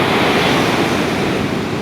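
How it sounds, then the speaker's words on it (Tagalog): Strong ocean waves at Dalugan Beach, a loud, continuous roar of surf with wind buffeting the microphone, steady throughout with no voices. "Patunay lang talaga na napakalakas ng alon dito."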